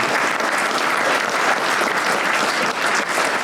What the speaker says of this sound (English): they deserve a round of applause for the great job they're doing